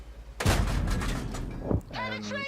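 A tank gun fires in World of Tanks with a heavy, booming blast that rolls out into a long rumble. A second sharp report follows, then a voice starts talking.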